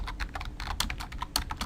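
Rapid, steady keystrokes on a computer keyboard, close and clear, with no voices over them.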